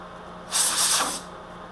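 A single short hissing burst of cutting oil sprayed onto a workpiece during machining of a collet holder, close and loud, lasting under a second against a quiet workshop hum.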